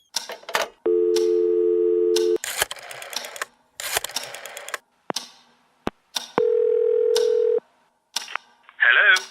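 A telephone in a Halloween-themed game buzzes with two long steady ring tones separated by clicks and short bursts of noise, loud and close, with no talking over it.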